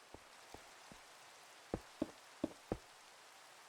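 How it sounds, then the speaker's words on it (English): Rain falling in Minecraft: a soft, steady hiss of drops under a series of sharp, separate taps landing every half second or so, growing a little stronger toward the end. "This is the 3rd time it's rained since I loaded into the world in a half an hour"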